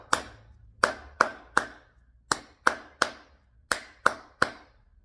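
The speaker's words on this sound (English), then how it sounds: "All right, so I'm gonna clap the basic rhythm." Sharp, close hand claps beating out a basic 1-2-3 dance rhythm, eleven crisp claps grouped in repeating threes with short gaps between groups, each with a brief room ring, and no talking.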